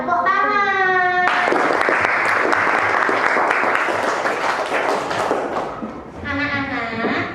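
Children in a classroom clap together in a loud, sustained burst of applause lasting several seconds, with singing or chanting voices before and after the clapping.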